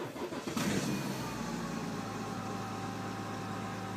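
A car engine cold-starts in extremely low temperatures, running on Lukoil fuel: a short loud cranking burst catches, then settles into a steady, close idle hum with no talk.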